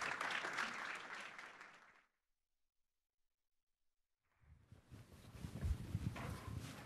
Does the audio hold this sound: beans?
no